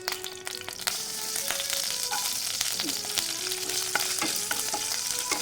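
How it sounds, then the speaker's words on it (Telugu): Mustard seeds and cumin crackling and spitting in hot oil for a tempering, a dense, close, continuous sizzle with scattered sharp pops and no talk. "దీంట్లోకి జస్ట్ నేను కొంచెం ఆయిల్, ఆవాలు, జీలకర్ర, తిరగమాత కోసం ఇది"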